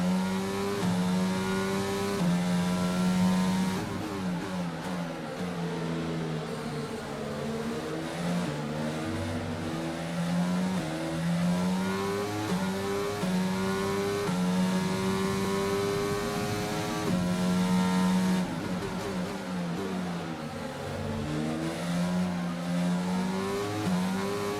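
A racing video game car's internal combustion engine revs and shifts through gears in a Canada race, a continuous loud engine whine rising and falling in pitch with repeated upshifts and downshifts.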